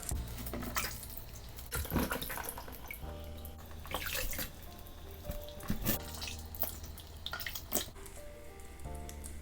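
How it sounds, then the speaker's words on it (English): Water splashes and trickles as a face is rinsed from a bowl, with irregular sloshes and drips over a steady watery background, close and fairly quiet. "what I'm going to do now is rinse off what I have on my face"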